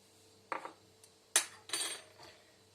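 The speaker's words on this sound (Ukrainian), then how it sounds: "І все це гарненько розмішую." A utensil scrapes and clinks against a bowl in a few brief strokes, stirring cold water and salt for chebureki dough, close and fairly quiet, with no voices.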